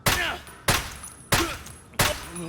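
Four evenly spaced 7.62x51 rifle shots strike body armor in Escape From Tarkov, each a sharp loud crack with a short decaying tail, about two-thirds of a second apart, with no talk.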